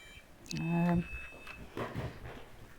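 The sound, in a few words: Bluetooth device power off beep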